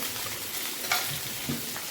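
Bitter gourd slices frying in a pan make a soft, steady sizzle, with a couple of brief stirring scrapes near the middle and no voices.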